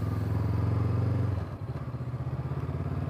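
A 2021 Honda CB500X motorcycle engine runs close by with a steady, throbbing pulse that shifts to a lower, choppier beat about halfway through.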